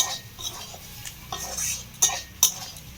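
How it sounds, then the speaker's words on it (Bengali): A spoon stirring cauliflower chop filling mixed with roasted spice powder in a pan, giving soft scraping with a few sharper clinks of metal on the pan, close and fairly quiet. "দিয়ে সমস্ত উপকরণগুলোকেই খুব ভালো করে একটু মিশিয়ে নিতে হবে।"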